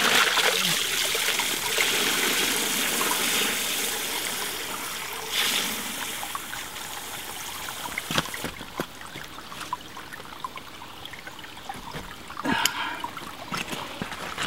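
Water runs steadily from a ram pump stand pipe, a continuous close rushing hiss that eases slightly partway through, followed by a few sharp taps and knocks on the pipe.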